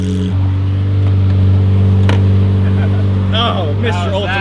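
A Lamborghini Murcielago's engine drones loudly and steadily at high revs, ending with an excited voice speaking over it.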